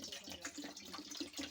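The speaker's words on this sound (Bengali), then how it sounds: "এবার প্যানে একটু জল দিয়ে আমি জলটা গরম হতে দেব।" Water poured into a pan on the stove for steamed hilsa, a quiet continuous splashing trickle lasting throughout.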